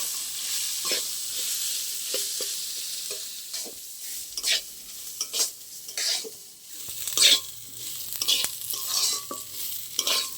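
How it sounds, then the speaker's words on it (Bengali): Soaked rice fries in a pan for chal potol, with a soft sizzle broken by repeated stirring scrapes and light clinks of the utensil against the pan. "চালটা আমি 5 মিনিট মতন একটু ভেজে নেব।"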